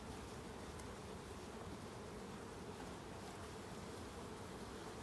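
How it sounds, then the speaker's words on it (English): Honeybees hum steadily at an open hive during a close apiary inspection, a dense, even buzz that fills the whole stretch with no talking over it. "Some people are afraid of bees, but actually this nice gentle hum sound relaxes me."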